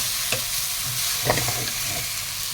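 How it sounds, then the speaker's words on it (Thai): Pad thai noodles with fresh shrimp are stir-fried in a wok, giving a loud, steady sizzle with a few spatula scrapes and clanks over the constant frying hiss. "ผัดรวมกันกับเส้น"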